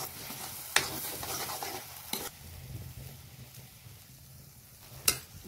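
Peas and masala sizzle steadily in a hot pan with paneer, the frying hiss punctuated by a few sharp clanks of a spoon stirring against the metal.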